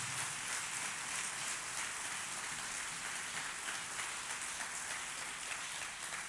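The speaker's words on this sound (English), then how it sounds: "clap for Jesus" A congregation claps hands together at an all-white crossover church service, a dense, steady wash of clapping that fills the whole stretch without a break.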